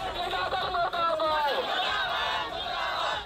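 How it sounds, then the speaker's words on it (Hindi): Angry crowd shouting slogans near a police station, many voices yelling together in a loud, dense, continuous roar close by. "इसके बाद गुस्साई भीड़ नारे लगाते हुए पुलिस थाने की ओर बढ़ी।"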